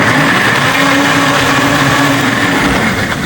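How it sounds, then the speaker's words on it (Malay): Electric blender with sharp blades whirring steadily as it grinds red chilies, a continuous loud motor drone running alone for the whole stretch. "Lada merah ni tak perlu halus, tapi blender Kak Zaida ni dia tajam bit dia."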